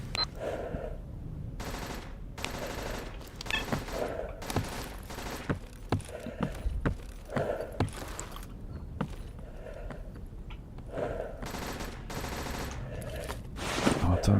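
Gunfire in S.T.A.L.K.E.R. Anomaly, with repeated sharp rifle shots and bursts of varying distance scattered across the stretch, mixed with game ambience and occasional voices talking in the background.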